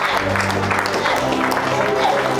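A church congregation at a Saturday service cheering and clapping together in a steady, continuous roar of applause, with voices shouting over it.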